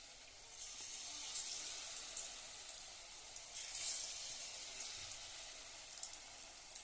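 Brinjal slices fry in hot oil with a faint, steady sizzle and soft crackles throughout, and no voice.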